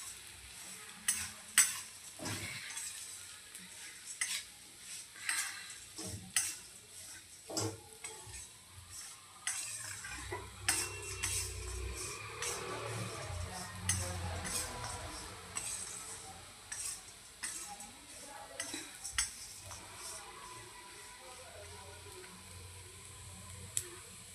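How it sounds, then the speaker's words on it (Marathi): Poha being stirred and turned over medium heat in a pan, with a steady run of scraping and clinking spatula strokes over a soft sizzle that grows fuller about halfway through. "आता पोहे आपले छान फुलेपर्यंत आपल्याला हा असंच पलटून"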